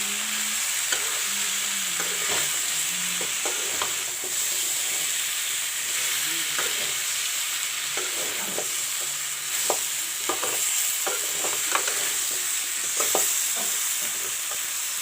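Drumstick, cauliflower and potato curry with chopped tomatoes and coriander leaves being stirred and fried in a pan, steady sizzle with repeated spoon scrapes and clinks throughout.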